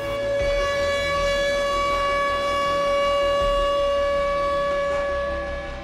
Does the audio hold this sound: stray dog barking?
no